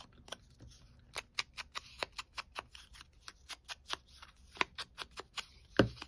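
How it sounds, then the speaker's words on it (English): Sharp snips of scissors cutting paper during Christmas envelope-journal crafting, a steady series of crisp cuts, mostly evenly spaced, up close and clear in a quiet room, with one louder snip near the end. "Let's cut off this black line. Cut it off, I say."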